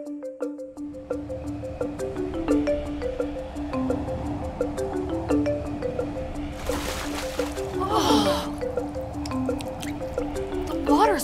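Water dripping and overflowing from a glass held between two hands, a busy pattern of small close drips and trickles over a faint steady hum, with a brief splashy burst midway.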